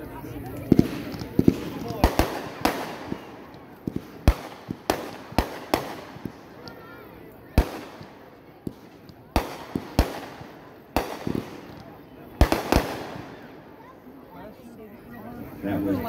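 Gender Reveal blue consumer fireworks assortment firing a rapid irregular string of sharp cracks and bangs over about fifteen seconds, some close and loud, others softer, with crowd chatter in the background.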